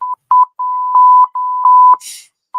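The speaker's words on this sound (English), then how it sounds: "It even has a little buzzer for you when you swear." A string of short, steady electronic beeps at one pitch, some clipped and some held longer, with a brief burst of noise near the end.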